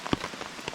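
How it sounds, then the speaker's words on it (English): Rain trickling and dripping under a solo camping tarp at night, a few brief close drops and patters over a soft steady wash, no voices. "Look at some rain starting to run in on the underneath side"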